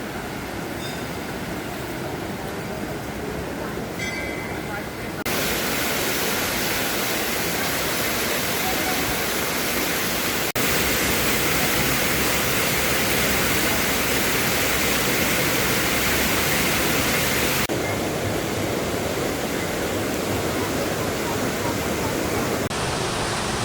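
Swollen river at Tapkeshwar near Dehradun after a heavy downpour, a loud, steady broadband roar of rushing water that fills the whole stretch, slightly quieter at the start.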